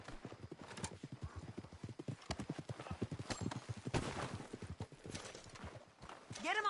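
Horse hooves clip-clop in a steady rhythm close by in Red Dead Redemption 2, with a few shuffling steps and a brief whinny near the end.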